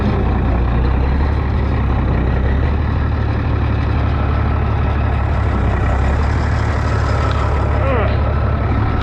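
Minneapolis Moline G707 tractor, abandoned and parked for 13 years, its engine rumbling loud and steady as it is put into reverse gear, with a faint squeal near the end.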